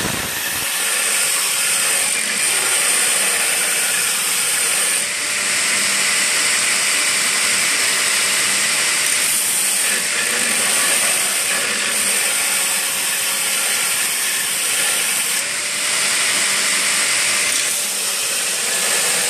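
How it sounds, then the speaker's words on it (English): A knife blade being ground on a hollow grinding wheel gives a loud, continuous abrasive hiss and whine with slight swells in pressure throughout, and no voices. "He was grinding blade up on the hollow wheel"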